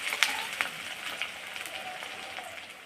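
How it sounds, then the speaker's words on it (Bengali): Chopped onions frying in hot oil while being stirred, a steady soft sizzle with a few sharp scraping clicks of the spoon, close and alone. "পেঁয়াজ কুচিগুলো ছাড়ছি। এখন নাড়াচাড়া করে নিচ্ছি।"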